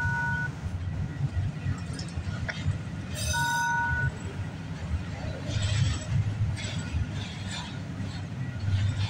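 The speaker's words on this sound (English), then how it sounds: "I just could have sworn that was the end of the train, but there's more." A freight train rolls past at night near West Toronto with a steady low rumble of cars on the rails, brief high squeals of wheels cutting in now and then, fairly far off and moderately quiet.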